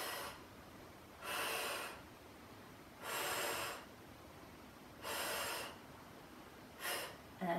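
Four slow, deep breaths during a barre workout, each a loud, breathy rush of air lasting about half a second, spaced evenly with quiet pauses between them, close to the microphone.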